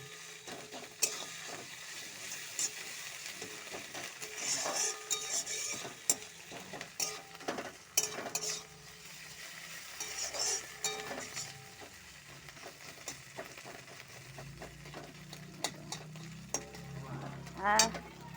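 A paste of ginger, garlic and cumin sizzles steadily in a pan for fish curry, with repeated scraping and clacking of a spatula as it is stir-fried, close and continuous.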